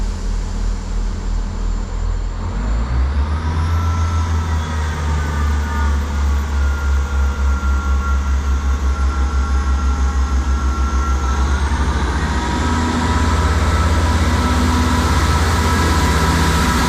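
South Western Railway Class 158 diesel unit 158885 pulling out of Eastleigh station on a service to Salisbury, its engine throbbing and then rising steadily in pitch as it accelerates, loud and near, no voices.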